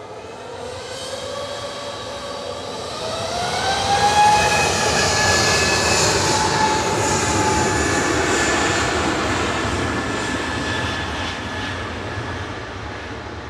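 A Virgin Airbus A350-1000 airliner arriving from Las Vegas at Manchester Airport, its engine roar swelling from about four seconds, then holding steady with rising tonal whines, no talk.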